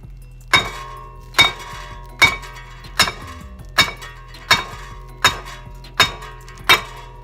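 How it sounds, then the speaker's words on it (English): A sledgehammer strikes the brake rotor of a Chrysler 200 nine times in a steady rhythm, each blow a loud, close metallic clang with a short ringing tail and no talking. "This sledgehammer that I'm using, it works every time like a charm"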